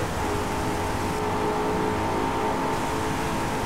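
A car engine in a racing video game, heard through a gaming headset, hums steadily at a constant moderate pitch with a faint whir, continuous and unbroken, with no talk.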